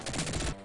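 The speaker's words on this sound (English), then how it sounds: "you have to use your machine gun in order to attack them" Rapid machine gun fire from the Sega Genesis game Dick Tracy, a dense burst of retro sound effects lasting about half a second before cutting off, with no talking.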